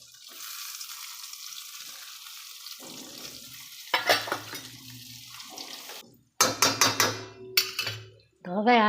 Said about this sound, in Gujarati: હવે આપણે આ મરચાંને વઘારી દઈશું